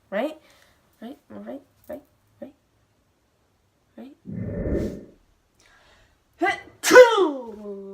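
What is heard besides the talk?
loud sneeze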